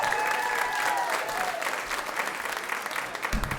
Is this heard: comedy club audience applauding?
yes